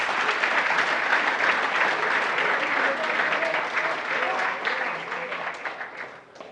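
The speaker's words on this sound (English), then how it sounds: "Let's welcome them with an applause." Sustained applause from the audience welcoming contestants at a senior high school quiz competition, dense and steady for several seconds before tapering off toward the end, with faint voices mixed in.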